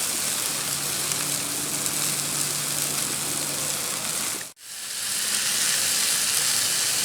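Steak and zucchini sizzle on a hot cast-iron Blackstone griddle, a loud, steady broadband hiss that drops out for an instant near the end and then resumes.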